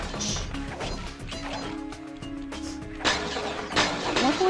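Objects smash and crash in a Sly Cooper level, with several loud breaking hits over steady game music, a sharp burst near the end.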